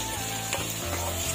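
Cabbage and mixed vegetables stir-fry in a pan for noodles, a loud close sizzle with scraping stirring strokes breaking through the hiss every half second or so.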